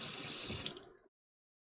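Running kitchen tap water splashing over a knife as it is rinsed, a steady broadband rush lasting about a second before stopping abruptly, close and clear with no talk.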